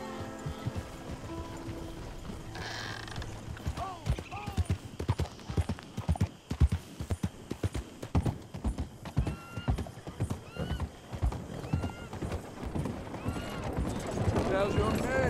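Horse hooves clip-clop steadily in Red Dead Redemption 2, a close, rhythmic trot with a whinny and a voice talking over the hoofbeats.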